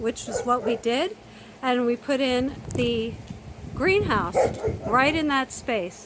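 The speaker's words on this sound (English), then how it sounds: "he does like to bark at me" A neighbor's dog yips and whimpers in high, wavering bursts close by, its cries mixed in with a person talking steadily.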